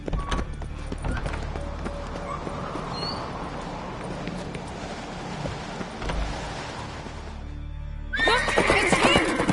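A horse in the video game Witcher 3 whinnies over steady hoofbeats and game ambience, with a brief louder burst of sound near the end.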